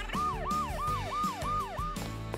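A toy ambulance siren wails in a steady rising-and-falling cycle, about six repeats, close and clear with no talking over it.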